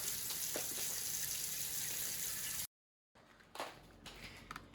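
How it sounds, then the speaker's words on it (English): Cold tap water running into a large cooking pot for chicken pho, a steady rushing gush that cuts off abruptly, followed by quieter splashes and handling noises. "making this about 3/4 full of water"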